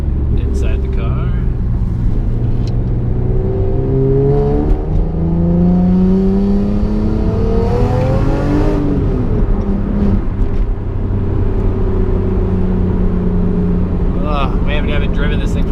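A BMW E46 M3 engine revs loudly and close, its pitch climbing and falling through several pulls, induction noise heard from inside the car.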